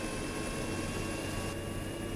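Helicopter flying in a video game: a dense, steady engine and rotor roar filling the whole clip at a constant level, with no talk.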